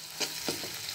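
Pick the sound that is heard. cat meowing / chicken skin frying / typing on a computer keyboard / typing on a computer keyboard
chicken skin frying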